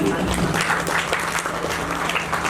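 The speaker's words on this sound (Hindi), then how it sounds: "तो सभी भक्तजन तालियों की सेवा देंगे ना?" Applause from devotees at a religious gathering, a dense steady wash of many hands clapping together throughout, fairly close and continuous, with faint voices mixed in.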